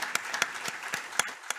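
Sparse applause from a small group in Santiago de Chile, scattered individual claps popping out at irregular intervals over a soft, steady patter, fairly quiet and close, with no voices.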